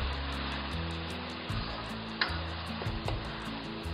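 Onion paste sizzles in hot oil in a pan, a steady bright hiss with a low hum beneath and a few faint scrapes of stirring.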